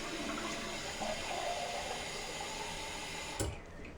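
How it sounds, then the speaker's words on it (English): Hot tap water runs steadily into a mug, with a continuous close splashing rush before a brief clunk near the end as the flow is cut off. "I just fill up a mug with some hot tap water"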